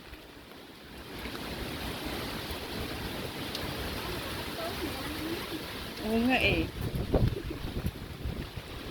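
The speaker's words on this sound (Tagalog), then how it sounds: "Ang lakas pa rin ng hangin." Strong typhoon wind (Typhoon Saola, Hong Kong) roars and buffets the microphone, with people talking and calling out over the gusts; the blustery noise swells louder toward the end.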